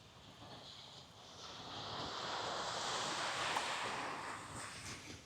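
Surf washing onto Trinity Beach on an overcast, nearly windless day: a steady broadband wash that swells gradually toward the middle and eases slightly at the end, with no voices.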